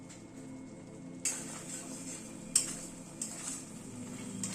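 Tomato and spice paste being sautéed and stirred in a pan for a vegetarian paneer and vegetable curry, with a soft steady sizzle and a few sharp spoon scrapes and clinks against the pan, no talk.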